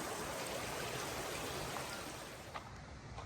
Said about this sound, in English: We're heading over Little Creek.